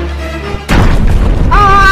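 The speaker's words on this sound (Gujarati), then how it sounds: "આ બોમ્બ કોણ ફોડે છે" A firecracker bomb bursts with a single loud boom at a wedding feast, cutting abruptly through a quiet domestic scene and leaving a sustained rumbling tail, with a brief rising tone heard near the end.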